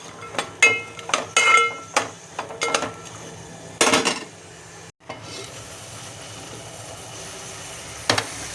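A lid is set on a cooking pot of vegetables for rice: a run of light metallic clinks and knocks, then a louder clattering placement, followed by a quiet, even background hiss and one last tap.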